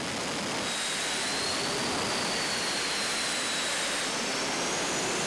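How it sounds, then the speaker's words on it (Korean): Aircraft jet engine during a ground test run, a loud, steady roar with a high whine running throughout, heard alone and constant. "엔진 시운전 중에 있습니다"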